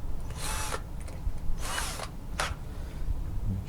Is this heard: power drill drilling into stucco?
yes